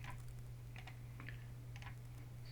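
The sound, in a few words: typing a website address on a computer keyboard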